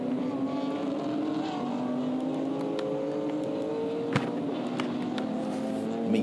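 Touring race cars race at the Misano circuit, with a steady engine drone and shifting pitch as several cars run together, a continuous mid-distance roar with a sharp click partway through.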